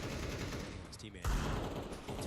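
Gunfire from a Counter-Strike match in a tournament broadcast, a dense burst of rapid shots under a steady crowd-and-commentary wash, with a heavier thump about midway.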